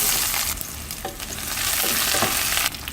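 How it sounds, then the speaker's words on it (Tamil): Mustard seeds, urad dal, fenugreek, fennel, asafoetida, green chilli and onion tempering in sesame oil in a kadai for raw jackfruit sambar, a loud, dense sizzle with stirring scrapes, close and continuous, no talking. "கடாய் வச்சுட்டு நல்லெண்ணெய் விட்டுக்கலாம். கடுகு உளுந்து, வெந்தயம், சோம்பு, பெருங்காயம், பச்சை மிளகாய், வெங்காயம்,"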